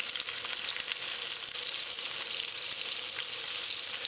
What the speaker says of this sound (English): Fry it 2 minutes on this side